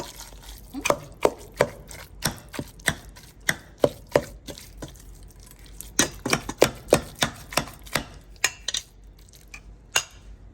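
Boiled eggs being chopped with a spoon in a bowl, giving a quick run of sharp, close taps and clinks against the dish in an irregular rhythm, with no voices.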